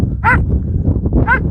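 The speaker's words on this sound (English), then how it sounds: "Okay, the dogs are barking." Two distinct dog barks, spaced about a second apart, ring out clearly over a low engine-like rumble.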